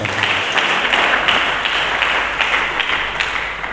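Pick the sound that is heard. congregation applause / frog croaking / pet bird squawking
congregation applause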